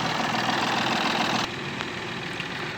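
A 2018 Tata Tiago XT diesel car idling, a steady low engine hum with a faint knocking rumble that drops slightly in level halfway through, heard close without talk.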